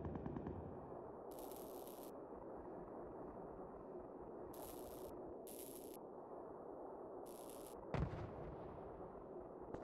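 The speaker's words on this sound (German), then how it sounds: "Was explodiert." Video game Transmission battle audio: a dense, continuous roar of explosions and gunfire-like rumble, with several bright bursts overhead and a sharp blast near the end, fairly faint overall and with no speech.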